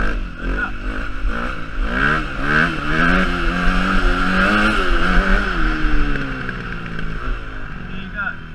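A dirt bike engine revs hard and rises in pitch as the front wheel lifts into a wheelie, with rough, wavering throttle blips, then settles and fades toward the end.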